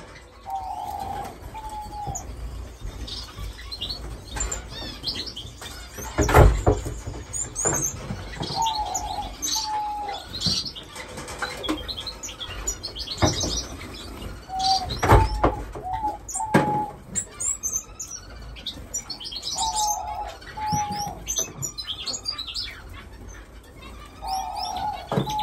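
Finches in an indoor bird room chirp and tweet in short bursts and repeated little calls, scattered and overlapping throughout, with some soft cooing and wing flutters in the background.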